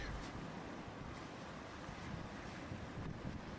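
Gusty wind buffets the microphone on a Mediterranean shoreline during shore fishing, a steady broadband roar with surges of wind and washing surf throughout, no voices.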